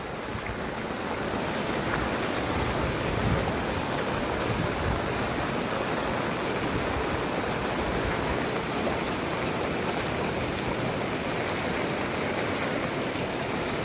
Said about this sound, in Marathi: पाऊस काही कमी व्हायचं नाव घेत नाही आहे, भरपूर आहे इथे, भरपूर आहे पाणी.